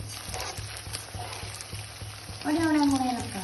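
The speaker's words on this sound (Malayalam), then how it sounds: "നമുക്ക് ഫ്രൈ ചെയ്തെടുക്കാം" Food fries with a low, crackling hiss in a pan while being stirred, held fairly quiet under a voice talking nearby.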